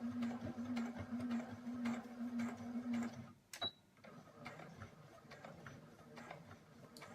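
A sewing machine runs in rapid, even stitching bursts for about three seconds, pauses briefly, then continues more softly as it back-stitches, with close mechanical ticking throughout.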